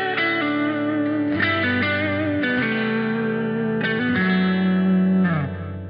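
Electric guitar lead phrase of simple single notes with slides and grace notes, played through distortion, chorus, echo and reverb, sustained tones ringing into each other and fading at the end.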